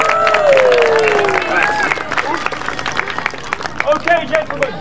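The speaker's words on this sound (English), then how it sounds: "a round of applause!" A crowd at an outdoor park show of Victorian-costumed gentleman jugglers claps and cheers, the applause loud at first and thinning into scattered claps, with whistles and voices mixed in.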